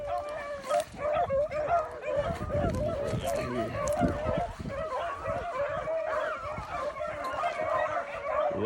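Beagles bay and yelp continuously while running cottontail rabbits outdoors in high wind, a noisy pack chorus carrying over wind rumble with a voice talking over it.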